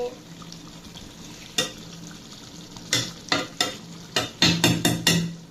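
Dried fish (shutki) stir-fried with whole garlic and onion in a pan, a run of sharp scraping stirs growing busier toward the end over a low steady sizzle, close and fairly loud, with no voices.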